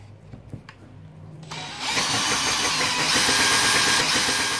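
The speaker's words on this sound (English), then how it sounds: "the Forstner bit will now be guided in beautifully. And this one is just cutting so much better than the smaller one did." A drill with a Forstner bit boring into wood in a workbench jig: after a quiet start with small knocks, the drill spins up abruptly and runs as a loud, steady whirring grind through to the end.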